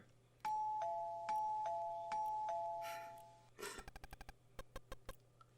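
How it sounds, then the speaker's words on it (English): A two-tone ding-dong doorbell chimes four times in quick succession in the horror game Creepy Creepy Love, clear and ringing, followed by a burst of noise and a series of sharp rhythmic knocks. "Someone's ringing the doorbell."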